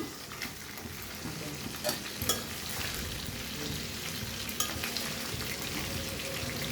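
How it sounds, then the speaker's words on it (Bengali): Nigella seeds dropped into hot oil left from frying fish, crackling in a lively close sizzle with scattered pops and stirring clicks. "মাছ ভাজা তেলে কালো জিরা ফোড়ন দিয়ে দেই"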